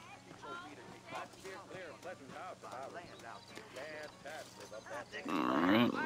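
Horse hoofbeats clip-clop at a walking pace in the Western video game Red Dead Redemption, moderately close and fairly quiet, with people talking over them throughout.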